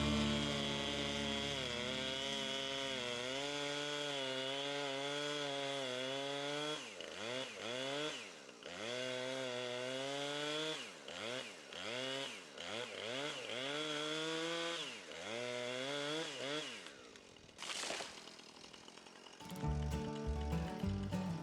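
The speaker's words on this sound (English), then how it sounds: "As I ran this new chainsaw" A professional chainsaw rips through a tree up close, its loud high engine whine rising and falling as the throttle is worked in repeated surges, then briefly dropping out before a short burst of rougher noise.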